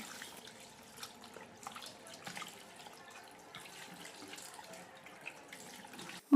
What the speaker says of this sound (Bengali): মাছ ভালো করে ধুয়ে নিয়েছি